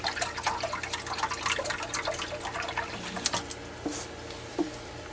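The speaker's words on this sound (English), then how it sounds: "And we'll pour some water in our little pot." Water pours steadily into a small pot at a workbench sink, a continuous close splashing and trickling wash with a few brighter drips toward the end.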